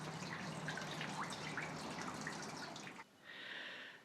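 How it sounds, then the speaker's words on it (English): Water trickles and drips out of a Ford Model T radiator that has been removed for repair. The faint, irregular drips are quiet and close, and a brief hiss follows near the end. "we've dripped out about as much water as I can get out of the radiator now"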